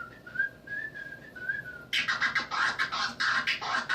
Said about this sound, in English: I could whistle my stuff like